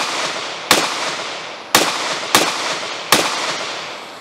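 Four sharp pistol shots from a Shield Plus handgun fired with a Shield Plus magazine, loud and close, spaced unevenly with each crack followed by a short decaying tail.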